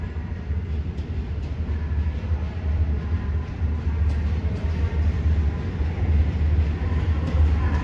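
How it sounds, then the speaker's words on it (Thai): Express train 997 pulling out of Bangkok's Hua Lamphong station, a steady low rumble of rolling cars with faint clanks, continuous and moderately loud. "ขบวนรถเร็วขบวนที่ 997 ปลายทางบ้านภูตาหลวงนะครับผม ออกจากสถานีกรุงเทพหัวลำโพงแล้วนะครับ"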